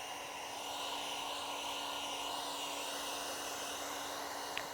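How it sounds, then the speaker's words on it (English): A heat gun post-heats vinyl wrap on the fender of a Tesla Model 3 Highland refresh, giving a steady, close airy blower roar with a constant motor whine that runs unbroken throughout, no voices. "We're going to go ahead and do the post heat though."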